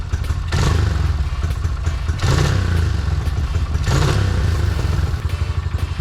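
A dirt bike with a budget aftermarket carburetor kit runs close and loud, its engine rising in three distinct revs over a steady low idling rumble, with no talking.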